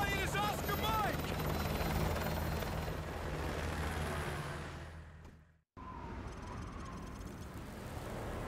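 A helicopter in the Call of Duty Modern Warfare 2 video game, its rotor thumping loud and close with a steady chop, fading briefly into a cut before continuing under engine roar.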